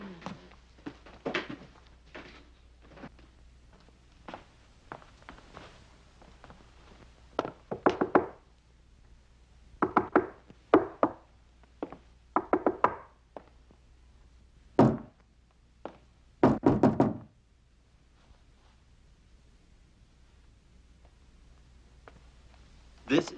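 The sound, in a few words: knocking on a door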